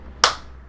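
A single sharp hand clap, crisp and close, standing alone against a quiet background, part of a rhythmic clapping beat in Metroid Prime 2 game music.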